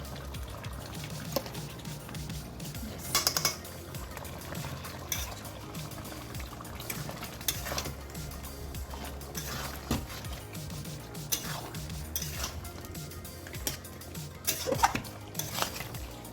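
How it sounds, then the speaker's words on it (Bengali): Chicken sautés in a pot with fried onions for handi chicken biryani, with repeated metallic clatter and scrapes of a spoon against the pot over soft bubbling and sizzling, close and busy, with no talking. "মাংস যেটা কষা হচ্ছে তার মধ্যে খানিকটা বেরেস্তা আমি দিয়ে দেবো।"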